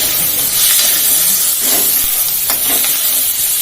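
Peanuts frying in oil in a pan for a dosa, giving a loud, steady sizzling hiss close up with soft stirring scrapes throughout, no voices.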